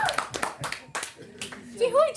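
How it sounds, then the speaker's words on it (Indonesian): A group of people clap hands in a scattered burst under ongoing talk and children's voices at a family gathering. "Tepuk tangan dulu Bapak."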